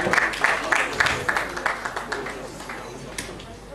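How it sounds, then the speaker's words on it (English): Audience applause at a national pitch competition gala night, a moderate burst of clapping that gradually thins and fades over a few seconds. "Please a round of applause."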